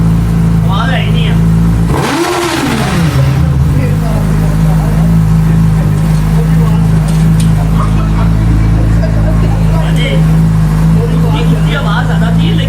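A loud motorcycle engine, not a superbike, idles steadily, then surges in one sharp rev around two seconds before dropping back to a constant throbbing idle.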